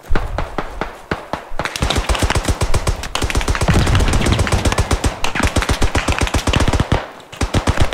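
Rapid automatic gunfire from the Beyond The Wire game, set on the Chateau-Thierry map, rattles out in loud, sharp bursts that run almost without pause. Short gaps break the bursts before the firing resumes.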